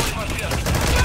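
Loud rapid gunfire in Metal Gear Solid V: The Phantom Pain, a brief burst of shots that crackle close and harsh over a heavy rumbling low end.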